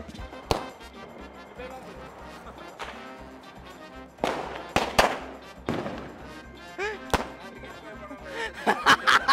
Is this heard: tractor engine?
no